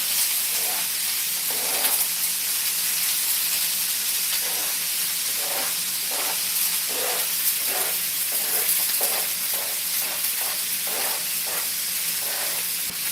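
Cabbage and peppers sautéing for a quinoa stir fry, with a steady, loud hissing sizzle and a rhythmic series of stirring scrapes throughout, and no talking.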